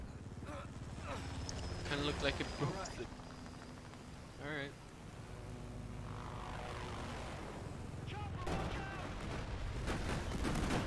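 Gunfire and explosions in a Battlefield 4 campaign battle, with aircraft engine drone underneath, scattered bursts and a heavier loud stretch near the end, mixed with voices talking.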